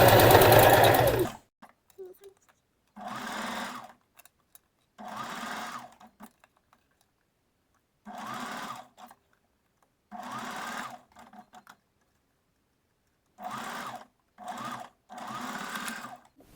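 Sewing machine stitching fabric for a boned bust form, close and steady in several separate bursts of a few seconds each, with quiet pauses between, after a brief loud opening.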